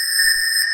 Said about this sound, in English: using detuned sine waves to create these really interesting textures